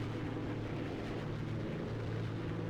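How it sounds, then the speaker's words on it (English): Spitfire MK 5B piston engine in the X-Plane flight game, a steady deep, throaty growl droning loud and continuous throughout with no break or speech. "Doesn't that engine sound magnificent? It's just got that deep throaty growl."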